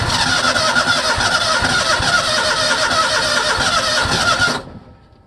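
A Simplicity Legacy 20 garden tractor engine cranks in cold weather: a loud, close, continuous starter churn for about four and a half seconds, then it cuts off abruptly into near silence without firing.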